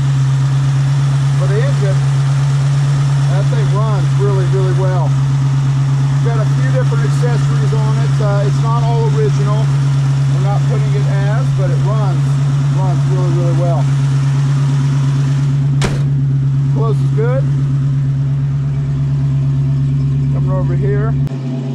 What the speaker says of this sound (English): For the engine, that thing runs really, really well.